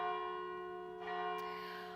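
Bells of the Anglican Cathedral in downtown St. John's ring out on Easter Sunday, a sustained, resonant peal with long overlapping tones and a fresh strike midway, heard alone at moderate distance.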